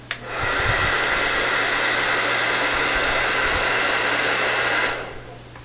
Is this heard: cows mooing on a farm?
no